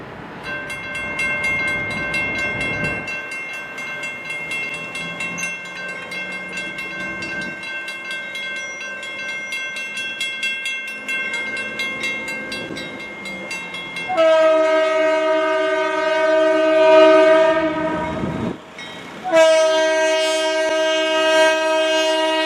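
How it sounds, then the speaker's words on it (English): Diesel train engines pull out of a rail yard, blowing long, loud horn blasts in several bursts, with the steady rumble of the moving engines beneath. "I then saw the engines as they left the yard back for Rickenbacker Yard"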